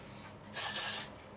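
Hairspray from an aerosol can misted onto an updo in one steady burst of hiss lasting about half a second, close and fairly loud against a quiet room.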